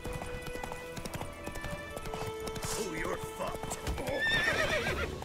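A horse in The Witcher 3: Wild Hunt gallops with rapid clip-clop hoofbeats amid combat noise, then gives a loud whinnying neigh near the end, while a player talks over the game sounds.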